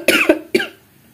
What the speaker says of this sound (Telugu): సారీ అండి దగ్గుతున్నానని ఏమనుకోవద్దు